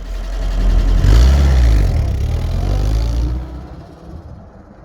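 A car engine runs close and loud, rising in a strong low rumble as it revs and pulls away, then fades steadily over the last seconds as it drives off.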